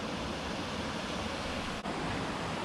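The Mill River rushes through a gorge on the Appalachian Trail, giving a steady, dense broadband roar of flowing water with no pauses or voices.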